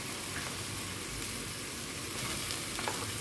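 Mung beans sauté in a pan for ginisang monggo, making a steady, soft, continuous sizzle throughout with no talking.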